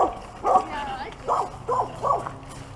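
Dogs bark and yip in short, repeated bursts, several sharp calls spaced about half a second apart, with a voice speaking among them.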